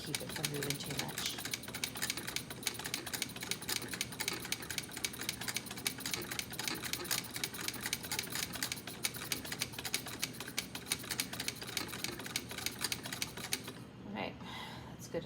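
A Singer 66 sewing machine winds a bobbin with a steady, close mechanical clatter and whir that runs continuously, then stops near the end, with a person talking over it.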